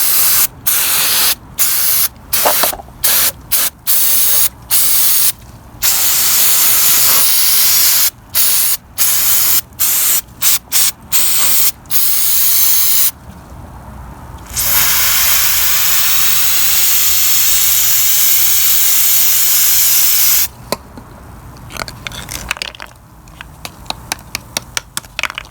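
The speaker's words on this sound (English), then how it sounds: "I'm going to use a non-chlorinated cleaner. Try to clean up a little bit better." Non-chlorinated cleaner sprays onto a dirty Homelite 26b leaf blower in many short, rapid bursts, then a few longer continuous hissing streams, close up and loud, ending in another flurry of quick squirts.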